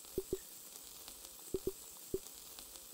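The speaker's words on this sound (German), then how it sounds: "Das Brutzeln ist ein bisschen..." Sizzling in the video game Grounded: soft, sharp pops and crackles recurring at irregular intervals over a quiet hiss, faint and with no talking.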